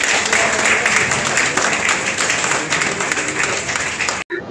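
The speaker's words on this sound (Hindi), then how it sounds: "एक बार जोरदार तालियां बजती रहनी चाहिए।" Loud, dense crowd applause at a public event in Delhi, sustained and near, continuing steadily for several seconds before cutting off abruptly near the end.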